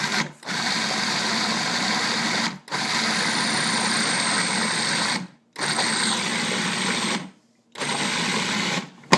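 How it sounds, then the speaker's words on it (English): A kitchen food processor blending cream of broccoli soup, a loud steady motor whine running in four long bursts separated by brief pauses. "so we'll put this back on again. Food processor"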